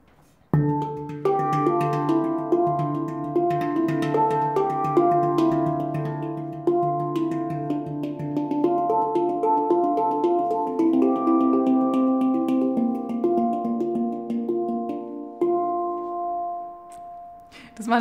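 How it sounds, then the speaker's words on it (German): Nitrided steel handpan played in a fast run of many successive notes, the tones ringing and overlapping in a sustained, shimmering cascade for about fifteen seconds before a softer final stroke; no voices. "kann man schnell viele Töne hintereinander spielen und sie überschneiden sich nicht."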